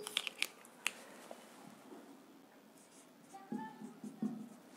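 Pen or chalk strokes on a board during a biology lesson: faint, scratchy marks and a few sharp taps near the start, quiet and close, with a low murmur of room noise beneath.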